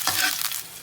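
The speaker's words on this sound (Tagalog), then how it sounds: "Oil, sibuyas, haluin." Onions stirred in hot oil in a pan, a brief close burst of sizzling with scraping strokes that fades toward the end.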